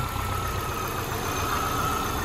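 A 1999 Subaru car engine idles steadily and evenly after repairs to fix fault codes, a low continuous rumble with faint mechanical vibration and no voices.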